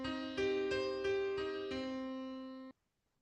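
A minor chord sounded on piano, its notes entering in quick succession over about a second and then ringing together, sustaining cleanly before an abrupt cutoff into silence.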